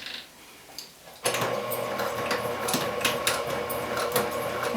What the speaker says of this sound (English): And then you'll back stitch